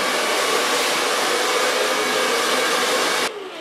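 A hair dryer blows steadily on a client's hair in a salon, a loud continuous airy whoosh that drops abruptly in level near the end as it is switched down or pulled away.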